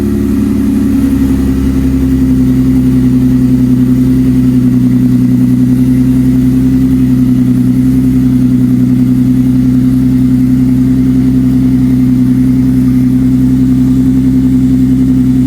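A Haltech-tuned Audi engine fires up from cold, rising briefly at first and then settling into a loud, steady, close idle with a firm, even drone.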